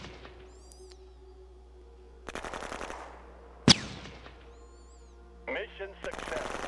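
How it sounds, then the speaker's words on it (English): Machine gun fire in the strategy video game Shadow Empire: several short rattling bursts over a low steady drone, with a sharp single crack midway and a final burst. "I'll use the machine gun too"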